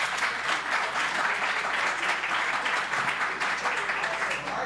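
An audience at an improv comedy show bursts into steady, dense applause, clapping that holds loud and even throughout.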